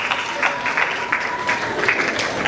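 A crowd claps with steady, energetic applause at the launch of a patriotic literary competition at a school, the clapping loud and close with rhythmic swells and no speech over it.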